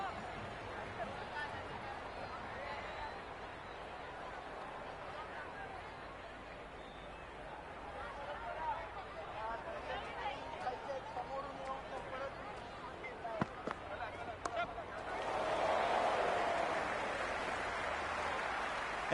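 Crowd noise at a cricket ground during a T20 international between Bangladesh and Australia in Cricket 26, a steady broad roar of spectators that swells louder near the end, with commentary talk over it.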